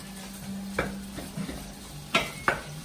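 Radishes and their greens are stirred in a pan of brown butter, with quiet sizzling under a low hum and a few scraping, clinking strokes of the utensil against the pan, the last two louder.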